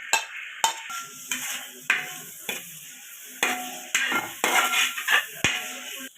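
Crushed garlic, ginger and green chillies stirred in hot oil in a pan for a beef roast, a continuous sizzle broken by repeated scrapes and knocks of a spatula against the pan.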